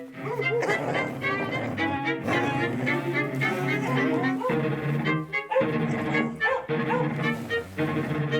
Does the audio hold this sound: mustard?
no